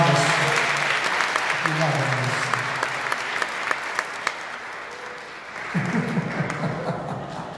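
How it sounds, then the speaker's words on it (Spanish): Sustained congregational applause at a Sunday Mass celebrating an anniversary, dense clapping with scattered louder claps, under voices and chuckles that rise near the end. "Un aplauso"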